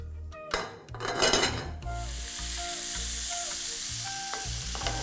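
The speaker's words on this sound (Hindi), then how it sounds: "देखिए सरसों के तेल को स्मोक कर लेना बड़ा ज़रूरी है।" Mustard oil heating in a pan for saag paneer gives a steady, loud frying sizzle that starts after a couple of seconds of clattering and stirring and then holds on its own, with no talking.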